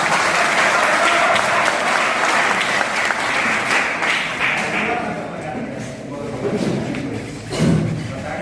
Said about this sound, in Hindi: मगर आपकी तालियों में जोर होना चाहिए।